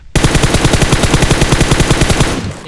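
Machine gun fire in PUBG, a sudden loud burst of rapid, evenly spaced shots, roughly two dozen rounds in quick rhythm, close and dominant before cutting off abruptly.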